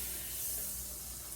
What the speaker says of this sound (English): got about a tablespoon of butter. Throwing that in the pan. Okay, you're gonna hear that's nice and hot and sizzling